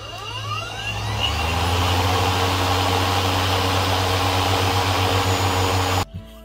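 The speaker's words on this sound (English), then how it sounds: "start the machine by pressing the start button and hold back the operation lever" A Kobalt 24-volt brushless cordless 20-inch electric lawn mower starting up, its motor whining as it spins up to a steady, fairly loud hum, then cutting off abruptly near the end.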